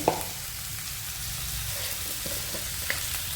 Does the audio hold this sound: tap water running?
no